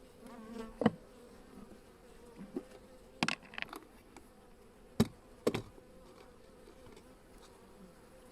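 Honeybees buzz softly and steadily around a hive throughout, with scattered sharp knocks and clacks cutting in now and then during queen rearing.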